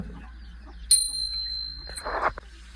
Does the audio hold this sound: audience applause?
no